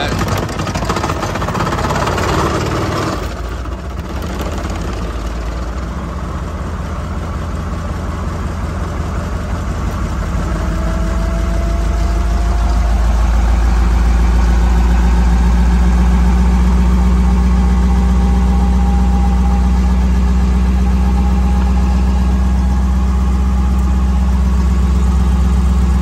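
A 410 asphalt sprint car engine catches on a push start, settling into a loud, steady low rumble with a slowly rising drone, close by and continuous.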